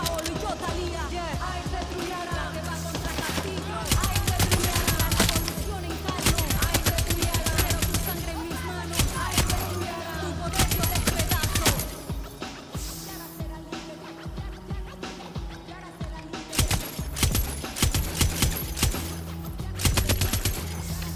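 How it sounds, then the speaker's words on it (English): Minigun fire in Far Cry 6: long, loud sustained bursts of rapid gunfire with short breaks between them, over game music and background sound. "It is very hard to shoot a minigun from this distance."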